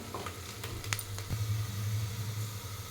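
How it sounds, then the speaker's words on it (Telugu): Onions frying in a pan for mushroom biryani, a steady low sizzle with a few soft stirring scrapes, close and fairly quiet, no talk. "ఆనియన్ మంచిగా మగ్గుతున్నాయి కదండి"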